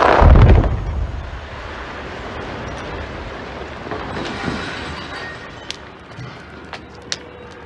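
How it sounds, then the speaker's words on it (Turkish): A heavy dynamite blast for road construction booms at the start, then a long rumbling roar fades out with scattered clicks and distant knocks. "Yol için patlatılan dinamitlerden çıkan ses çevrede bulunan vatandaşların korkmasına neden olurken"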